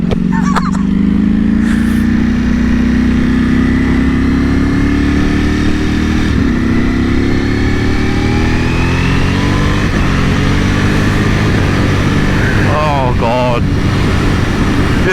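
A 2021 Ducati Panigale V4S motorcycle on the road, its engine note rising and shifting through revs while riding, steady and close throughout with wind rush underneath.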